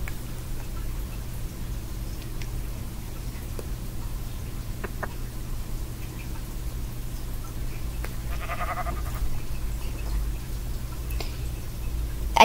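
A sheep gives a single faint, short bleat in a video game, over quiet low ambient hum with scattered soft ticks and clicks.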